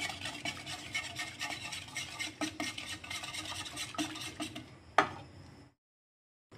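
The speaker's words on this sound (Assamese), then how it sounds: "এনেদৰে হেণ্ড উইচ দি ভালদৰে মিক্স কৰি দি আছোঁ" Whipped cream beaten by hand with a whisk, producing rapid, rhythmic close-up scraping and ticking against the bowl, ending in a single knock before falling silent.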